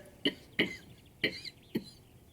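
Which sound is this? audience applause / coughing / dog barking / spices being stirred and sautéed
coughing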